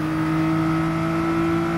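A race car engine drones at steady high revs in Gran Turismo 7 at Daytona, a loud, even, sustained tone held close and alone throughout.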